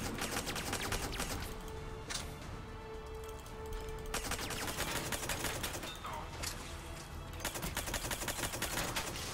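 Rapid bursts of automatic gunfire from a weapon in the video game Mass Effect 3, firing in dense rattling volleys with short pauses between them. A voice is faintly heard beneath.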